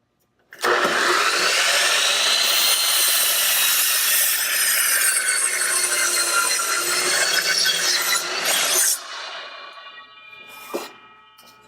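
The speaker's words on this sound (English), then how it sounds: "I'm ready to start cutting my first piece of wood." A power saw cuts through a piece of wood in one loud, steady, harsh pass lasting about eight seconds, then its whine winds down and fades, with a brief knock near the end.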